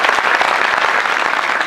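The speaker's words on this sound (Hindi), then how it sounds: "उन सबके लिए तालियां हो जाए जोरदार" A comedy show audience breaks into loud, steady applause, a close dense patter of clapping from many hands throughout.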